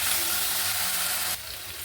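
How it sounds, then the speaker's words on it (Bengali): Fried potatoes with spices and chili powder sizzle loudly and steadily in a pan for a spicy puti fish curry, then the sound drops slightly near the end. "লঙ্কার গুঁড়ো দিয়ে একটু নেড়ে নেব"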